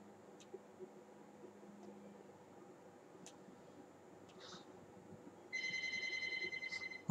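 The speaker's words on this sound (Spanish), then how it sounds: "ha, sonado el teléfono" A telephone rings in the horror game Silent Hill P.T., a steady run of bright repeated electronic trills that starts abruptly near the end after a long stretch of quiet, dark ambience with faint scattered clicks.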